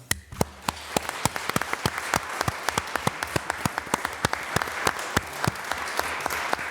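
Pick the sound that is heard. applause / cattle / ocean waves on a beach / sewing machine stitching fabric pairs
applause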